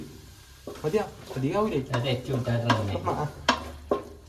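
Ginger-garlic paste sizzles and scrapes in a pan while being stirred for a Kerala-style kappa biriyani, with a voice talking over it throughout and a couple of sharp utensil knocks near the end.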